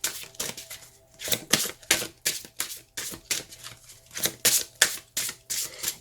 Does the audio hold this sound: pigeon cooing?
no